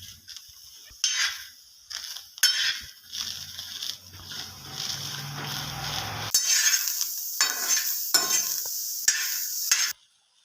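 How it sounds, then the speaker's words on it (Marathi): Fresh pigeon pea seeds dry-roasting on a hot griddle, stirred with repeated scraping and rattling strokes over a soft sizzle, close and steady, ending abruptly. "मी आता हे दाणे भाजून घेणार आहे मी"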